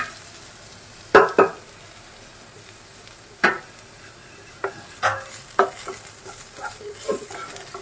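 Onions frying in a pan, with a low steady sizzle under several sharp, close spatula scrapes and knocks spaced unevenly as they are stirred.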